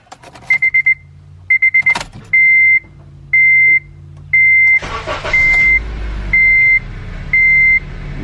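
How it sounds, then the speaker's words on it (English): Car engine cranking and starting after a spark plug replacement: dashboard warning beeps chime in even pulses, then the engine catches and settles into a steady idle while the beeps continue, loud and close. "Let's turn this car on and see what happens."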